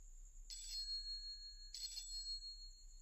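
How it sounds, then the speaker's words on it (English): A bell rings twice with bright, sustained tones, each ring starting sharply and lingering, against a quiet low hum. "Then suddenly she ran across the road and rang Holmes's doorbell."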